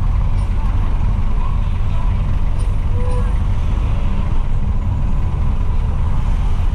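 A G-liner bus pulls away through congested city traffic, its heavy diesel engine rumbling loud and close in a constant low drone, with faint voices nearby.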